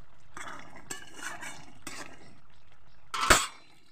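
A pot of fish curry is handled on the stove: a few soft metallic clinks and scrapes, then a sharp, bright clank of the pot being lifted off near the end.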